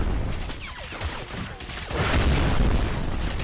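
Rocket launcher explosions in Crysis Remastered on Nintendo Switch, dense booming blasts and crackling debris rolling together into a loud, sustained rumble with no clear single hit.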